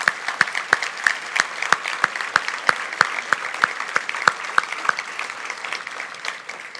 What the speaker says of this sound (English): Please give a round of applause to those that make today possible.